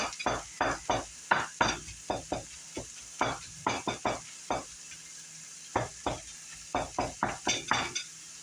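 A knife scraping out zucchini flesh in a kitchen, a close series of sharp scratchy strokes in uneven bursts with short pauses between, with no talking.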